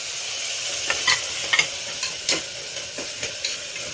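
Tomatoes sizzle in a hot pan while dal rice is cooked, a steady frying hiss broken by a few soft stirring clinks and scrapes, close and moderately loud with no talking.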